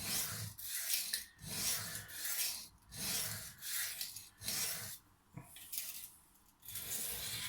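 A budget kitchen knife is drawn across a sharpening stone in about eight evenly spaced rasping strokes, each a short, close scrape separated by brief pauses, with no talk.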